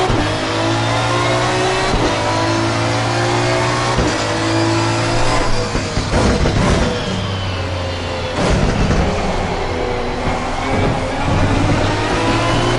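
Race car engines in the racing video game Assetto Corsa Competizione, loud sustained high-revving drone with repeated gear shifts and throttle swells, cars passing close by, continuous for the whole stretch.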